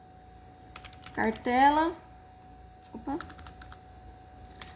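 Light clicking of keys on a computer keyboard, sparse and close, heard beneath and between brief bits of a woman's speech.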